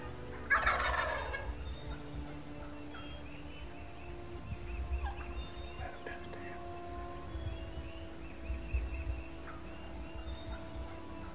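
Wild turkeys in a Kansas flock fly down from roost, a brief loud burst of wingbeats and gobbling up close, followed by quieter scattered clucks and rustling in the field.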